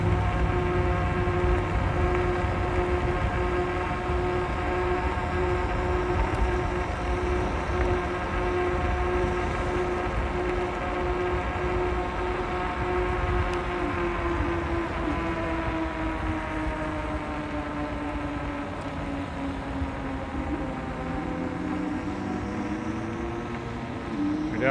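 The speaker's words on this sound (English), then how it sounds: "I want to see how my voice picks up over top of the wind noise" Steady wind buffets a microphone outdoors on a cold day, a continuous low roar with a faint droning hum running through it, no voice heard.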